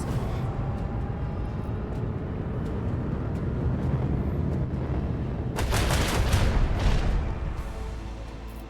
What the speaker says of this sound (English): Somebody done fire some torpedoes at me